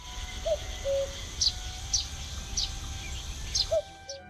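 Cuckoo calls in the video game The Night of the Rabbit: clear, moderately near two-note calls repeat at a steady rhythm over a soft hum of ambient background.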